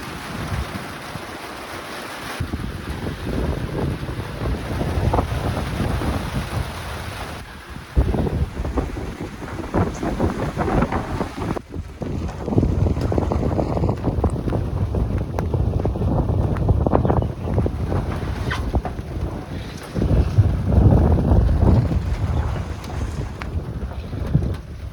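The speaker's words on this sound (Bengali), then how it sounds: "দেখুন দেখুন বৃষ্টি এখন এসে গেছে" Steady rain pours down outdoors in Qatar, a dense continuous hiss and patter with gusty wind buffeting the microphone, loud and close throughout with no voices.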